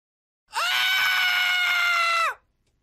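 One long, loud, sustained scream rings out for about two seconds, piercing and steady, then cuts off into silence.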